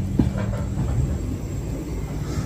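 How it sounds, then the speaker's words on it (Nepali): A train runs along the rails in a steady, loud rumble, heard close and alone, with a faint rhythmic clatter of the carriages. "रेल भनेको यस्तो हो साथीहरू"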